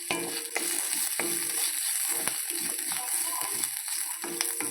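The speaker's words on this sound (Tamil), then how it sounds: "பெரிய வெங்காயம் ஒன்று பெருசாக போட்டுருக்கேன். நல்லா வதக்கி விட்டுக்கலாம்." A large onion and garlic sautéing in a pan, a dense hissing sizzle throughout with spatula strokes scraping and knocking at irregular intervals, close and moderately loud.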